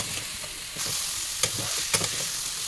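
A mixture being stirred in a hot pan: steady scraping strokes over a continuous sizzle, with a couple of sharper utensil knocks against the pan, close and clear, no talking.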